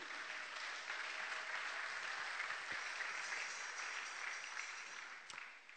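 A church congregation applauds together, a dense steady wash of clapping filling the room for several seconds before tapering slightly at the end.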